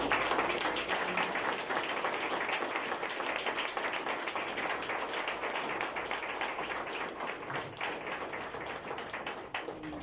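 A church congregation claps hands for God in a Sunday service, a dense, sustained wash of applause from many people for the whole stretch, gradually easing toward the end.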